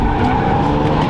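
A BMW E30 wagon with an LS engine is driven hard through mud, its tires skidding and engine roaring loudly and close.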